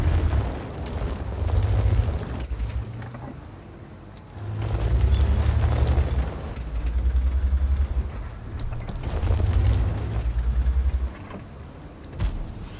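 Heavy tank cannon shots in an online tank game, the IS-3A on the Hinterland map: three deep, loud booming blasts a few seconds apart, each followed by a low rolling rumble.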